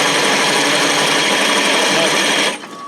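A drill press bores into a go-kart wheel hub with a loud, steady whirring buzz and rapid rattling chatter, then abruptly winds down near the end.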